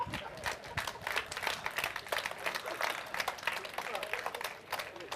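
An audience claps in a lecture hall during a talk on happy living, giving a loose, continuous patter of many hands at moderate distance, with voices faintly underneath.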